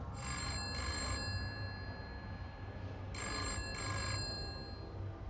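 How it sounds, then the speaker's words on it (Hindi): A telephone bell rings in a police station in two bursts of double rings, separated by a pause, over a steady low background hum. "हरिनगर पुलिस थाने में फोन की घंटी बजती है"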